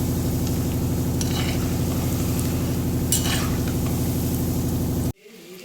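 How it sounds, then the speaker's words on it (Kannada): Methi (fenugreek leaf) vada deep frying in hot oil, a loud, steady bubbling sizzle with faint scraping clicks on top, running continuously until it cuts off abruptly near the end. "ಇದು ಎಣ್ಣೆಲಿ ಹಾಕಿರೋದು ಡೀಪ್ ಫ್ರೈ ಮಾಡ್ತಾ ಇರೋದು ಇದು"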